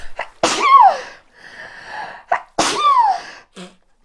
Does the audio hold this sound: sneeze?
yes